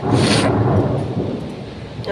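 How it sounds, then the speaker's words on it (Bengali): Thunder rumbles loudly and close, a deep rolling growl over a soft wash of rain that fades slightly toward the end. "বিশাল মেঘ ডাকছে পুরো গুড়গুড় গুড়গুড় করছে"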